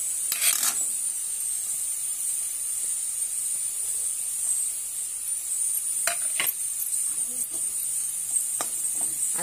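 Onion bhaji sautés in a pan with a steady high sizzle, broken by a few scraping stirs of a spatula near the end.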